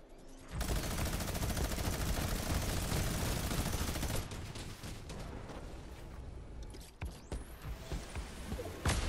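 Dense, sustained gunfire from Fortnite during a live event crackles loudly as a rapid fusillade for about four seconds, then thins into scattered shots and rumbling chaos.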